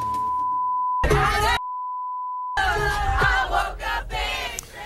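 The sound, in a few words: censor beeps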